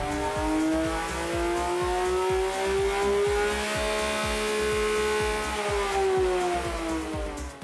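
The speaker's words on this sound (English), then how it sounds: "The car sounds superbly, especially from the inside." A Porsche 911 GT's naturally aspirated engine revs high, heard from inside the car: a loud, steady climbing wail that rises in pitch, levels off and eases slightly, with rapid mechanical pulsing underneath.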